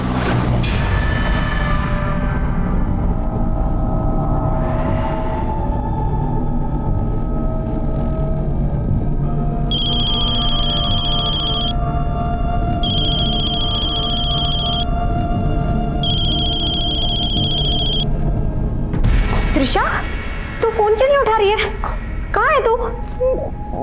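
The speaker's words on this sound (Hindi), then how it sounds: "माँ बेल तो जा रही है लेकिन फोन नहीं उठा रही है" An unanswered phone rings three times in a row, evenly spaced electronic trills sounding over a dramatic musical background, with voices nearby.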